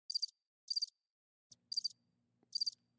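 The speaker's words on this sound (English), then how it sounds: "That was crickets." Crickets chirp in short, bright pulsed bursts, four evenly spaced trills over three seconds with a faint low hum entering halfway through, quiet and isolated.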